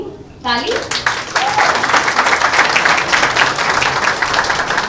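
A brief voice at the start gives way to a crowd applauding at a birthday single launch, steady clapping that builds and continues loudly to the end.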